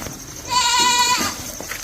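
A single goat gives one wavering, nasal bleat lasting under a second, close and fairly loud over faint background noise.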